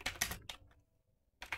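A ping command being typed on a computer keyboard at a Windows Server command prompt: two quick bursts of close key clicks, a pause, then another short burst, with no talking.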